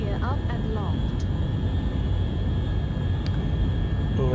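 Steady, loud engine roar from the XR5 Vanguard spacecraft in Orbiter 2010 at full main throttle after gear-up, a continuous broadband rumble with a faint tonal whine, voice chatter briefly at the start and end.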